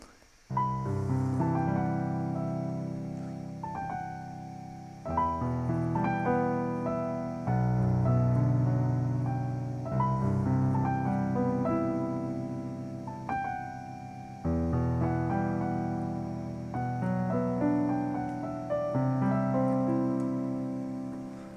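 Piano chords struck every few seconds, each ringing out and decaying, with broken-chord arpeggio notes weaving between them; no voices.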